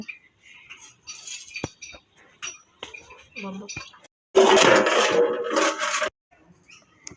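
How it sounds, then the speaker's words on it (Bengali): Knife cutting through a jackfruit in a home kitchen, with soft scraping and clicking cuts followed by a louder, sustained rasping cut lasting a couple of seconds, close up with quieter pauses between. "এখন আমরা কাঁঠালগুলা কেটে নেব।"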